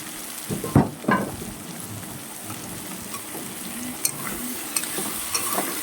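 Shrimp and banana flower curry gets stirred in a frying pan: two sharp spatula scrapes early on, then a low, steady sizzle with faint clinks near the end.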